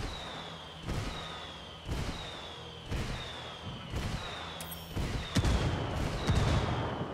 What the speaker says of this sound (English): Some hombres close by heard the explosion.